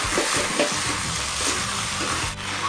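Kwetiau noodles stirred with soy sauce and other sauce in a hot wok, with a continuous sizzle and repeated scraping and tossing of the spatula close up, no voices.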